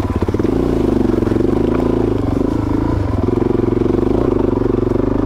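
Suzuki DRZ400 dual sport motorcycle engine running steadily on Idaho single track, a loud, close, continuous low drone with slight rising and falling throttle changes and faint clattering throughout.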